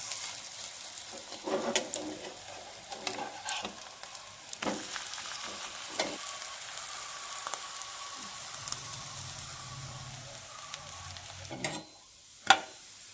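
Bottle gourd pitha fry on a griddle with a soft, steady sizzle, punctuated by occasional clicks and scrapes of turning, ending with a sharp tap as the sizzle drops away.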